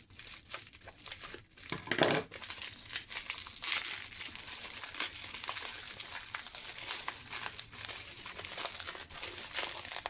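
Tough plastic packaging on an art supply order crinkles and crackles steadily while scissors struggle against it, close and fairly quiet with occasional sharper snaps.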